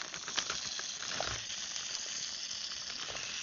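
A pork chop and zucchini fry on an Odoland camp cookset outdoors, a soft, steady sizzle and hiss with a few faint clinks, no talking.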